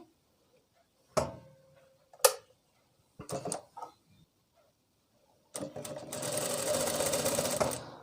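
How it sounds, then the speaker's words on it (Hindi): Sewing machine stitching the pocket piece onto the fabric of ladies' palazzo pants, with a few short clacks and handling sounds first, then a close, steady whirring run of stitching near the end, with no talk. "आधा इंच की दूरी पर हम इसकी सिलाई कर लेंगे"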